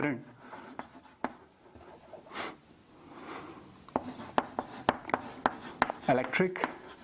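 Chalk or marker writes on a board in a classroom, a run of scratchy strokes and sharp taps that turns busier toward the end, while a teacher talks.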